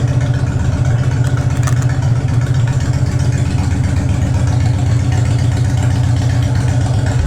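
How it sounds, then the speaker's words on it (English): A Honda Fury motorcycle with extended forks idles while warming up, a steady, loud low-pitched engine rumble that holds constant throughout without revving. "Let's get the bike warmed up, and we'll go for a rip."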